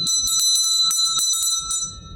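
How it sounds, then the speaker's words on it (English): A podcast host's bell rings loudly and repeatedly in quick, uneven strikes, its bright metallic tone ringing on through nearly two seconds before fading under faint low background noise. "You're gonna hear my bell a lot, okay?"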